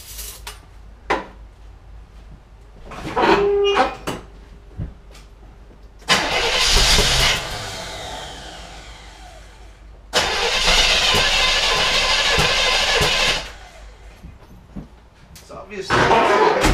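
A 1978 El Camino with a fuel delivery problem, its engine cranking in two long loud bursts of several seconds each, separated by pauses with clanks and a voice nearby.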